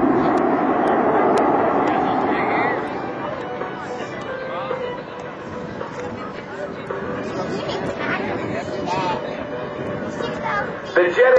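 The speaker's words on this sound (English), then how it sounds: "The afterburner pouring raw jet fuel in really increases the thrust" F/A-18C Hornet jet at a Navy airshow, a loud sustained roar of engines with afterburner, strongest at first and then easing slightly, with crowd chatter murmuring beneath throughout.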